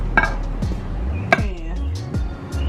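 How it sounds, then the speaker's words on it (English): Squash pieces dropped into a cooking pan, giving a few sharp clattering knocks, two louder hits and softer bumps, close and without talk. "This is the squash. I'm gonna go ahead and put it in this"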